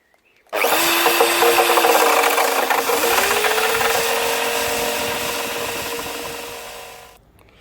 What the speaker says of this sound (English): that's the outside surface cleaned up, paint cleaned off, taken back as much of the rust and stuff as I can